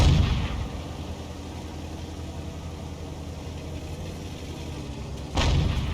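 A tank cannon in a video game fires with a loud booming blast at the start, followed by a steady engine drone, then a second heavy shot near the end.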